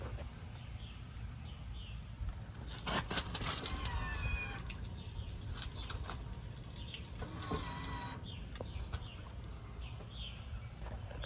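Water drains from a Monaco motorhome's fresh water dump valve, a continuous rushing flow that rises in strength for several seconds midway and then settles back to a steady trickle, with no talking.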